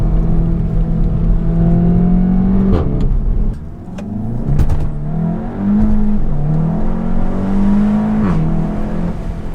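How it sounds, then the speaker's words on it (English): A Seat Leon Cupra 300 accelerates hard, its engine droning loud and close from inside, dipping briefly around the wheel hop before the revs climb again through rising gear pulls. "So you get a little wheel hop, but then it just gets going."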